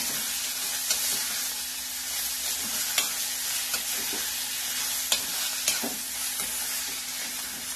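Karela (bitter gourd) sizzles steadily in a frying pan over gentle heat as a spatula stirs it, with scattered scraping clicks over a constant frying hiss, heard close and alone.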